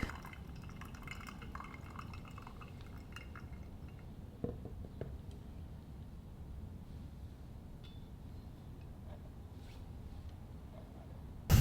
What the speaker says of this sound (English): when you rinse the paper filter with hot water